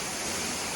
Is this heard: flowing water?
yes